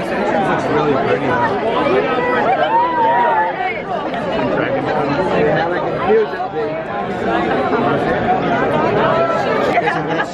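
Dense crowd chatter outside the Hogsmeade entrance at a theme park on opening day, many overlapping voices forming a steady close babble with no single speaker standing out, continuous throughout.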